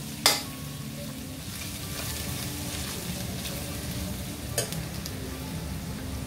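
Chilli powder stirred into fish curry masala frying in a pan, a steady close sizzle and scraping stir with a sharp clatter near the start and another later, no voices.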